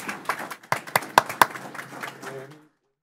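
At an expressway authority board of directors meeting, a small group claps briefly. A few distinct, sharp claps rise and then taper off into silence within about three seconds.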